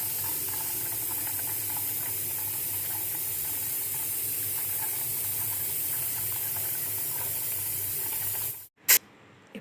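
Softened butter heats in a pan to make ghee, producing a steady, continuous sizzling hiss that runs unbroken for several seconds before cutting off, followed by a brief clatter.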